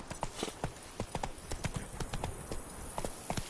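Steady clip-clop of a horse's hooves trotting along in The Witcher 3, an even rhythmic beat of close, distinct hoof strikes with no talk.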